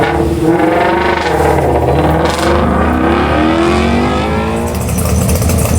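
A loud flat-plane crank Voodoo V8 car engine revs hard and accelerates at an autocross event, its deep roar rising steadily in pitch for several seconds, close by and continuous.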